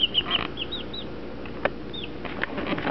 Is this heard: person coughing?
no